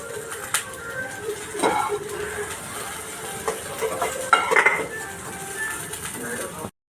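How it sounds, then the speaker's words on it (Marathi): Okra stir-fries in a pan with a low, continuous sizzle, broken by scraping stirs and clinks of a spatula against metal, close by; a voice speaks briefly partway through. "भेंडी छान परतून घेते, त्याचा चिकटपणा जाईपर्यंत"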